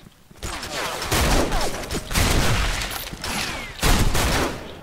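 Gunfire in the video game Special Force 2 crackles in dense rapid bursts, loud and close, with short pauses between volleys.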